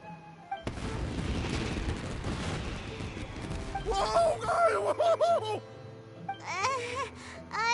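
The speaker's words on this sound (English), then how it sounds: "this is turning into a bit of a fireworks display" Fireworks bursting in the video game Genshin Impact, a dense crackling barrage of booms and pops that fills the first half, then fades under raised voices and some sparkling tones.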